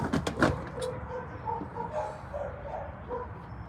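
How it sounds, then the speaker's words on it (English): Dogs outdoors bark in a few quick sharp yips near the start, then softer whimpering and low noise trail off over a steady background hum. "Come get these motherfucking dogs."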